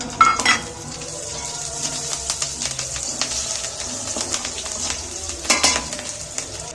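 Chopped garlic and green chillies sizzle in hot oil while a utensil stirs and scrapes against the pan, with sharp clinks near the start and again near the end over a steady frying hiss, and no talk.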